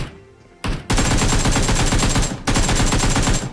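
Rapid automatic gunfire in Battlegrounds Mobile India rattles out in two loud, sustained bursts, close and dense, with a brief break between them.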